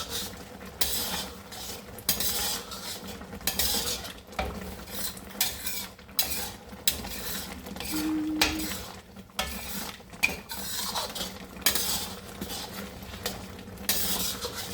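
A utensil scrapes and stirs through thick boiling homemade bagoong paste releasing oil in a pan, with steady clinks and scraping strokes over a low sizzle, close by.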